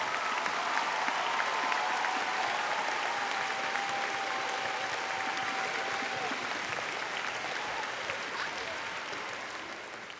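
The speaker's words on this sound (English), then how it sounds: "Why don't we give the students and the court and the teachers one more big round of applause." Sustained applause from a school May Day program audience, a broad steady wash of clapping that holds for about ten seconds before gradually fading.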